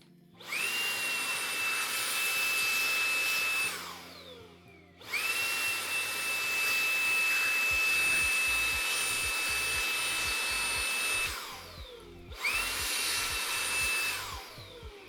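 A vacuum cleaner sucks dust out of a computer in three bursts, each a loud steady whine with a high tone that rises on start-up and winds down as the machine is switched off, with faint rattling during the second run.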